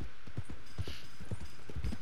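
Steady clip-clop of horse hooves in Red Dead Redemption 2, a walking gait with rhythmic dull thuds, close and moderately quiet with a faint hiss in the background.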